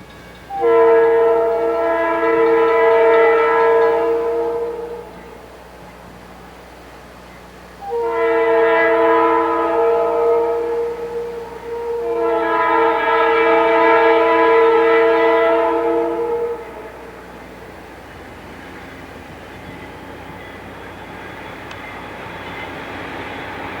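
A Conrail westbound freight train rolls through snow at the Effingham station on a January day, sounding three loud, sustained horn blasts, two long and one in between, over a low rumble of the passing train.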